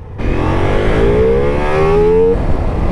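A Ducati Multistrada motorcycle engine on a Pyrenees road hums steadily and loudly, its pitch climbing smoothly as the bike accelerates, with wind noise throughout.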